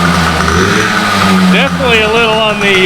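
A Yamaha PW80 dirt bike idles close by with a steady buzzing two-stroke putter that runs throughout, while someone talks over it.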